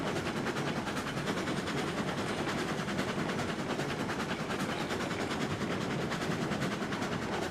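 Steam locomotive in the railroad game Railroads Online chugging along with its reverser cranked up, a dense steady rumble of exhaust beats and rolling clatter that holds at a constant level throughout.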